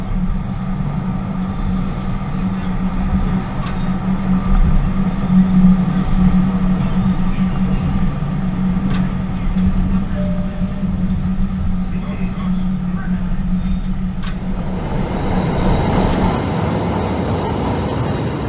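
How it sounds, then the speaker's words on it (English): Steady low rumble of a Tyne & Wear Metro train running through a tunnel, a constant drone with faint squeals, rising into a rougher roar near the end. "The train now descends downwards once more for the last time, remaining in tunnel all the way to the terminus"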